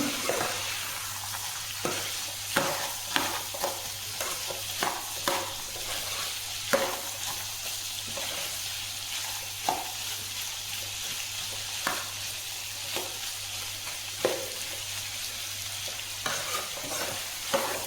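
Cauliflower and chana dal fry in a pan under a constant sizzle while a spatula scrapes and stirs in frequent, uneven strokes, with a low steady hum behind.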